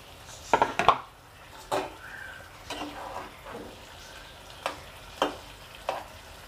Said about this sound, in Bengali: এবার এর মধ্যে আমাদের মাছগুলো ঢেলে দেওয়া হচ্ছে